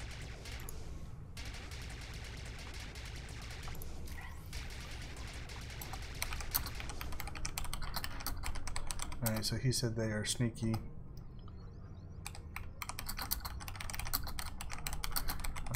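Rapid clicking keystrokes on a computer keyboard run throughout, close and steady, under a voice and the dense crackle of gunfire from a Star Wars: The Old Republic PvP match.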